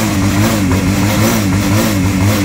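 Close, steady motorcycle engine rumble with a pulsing beat and small throttle blips, no voices.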